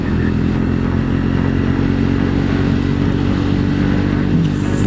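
A 2024 Triumph Scrambler 400X motorcycle runs steadily and loudly close by, its engine droning continuously under load as it accelerates through the gears, with no talking over it.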